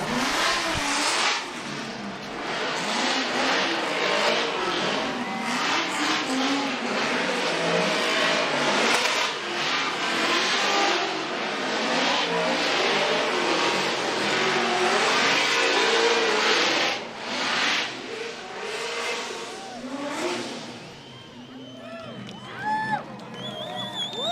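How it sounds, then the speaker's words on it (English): Pro drift cars at Formula DRIFT Utah perform celebratory donuts, with engines revving and tires screeching continuously for over twenty seconds while a crowd cheers and an announcer talks. "Some celebratory donuts, courtesy of our podium finishers."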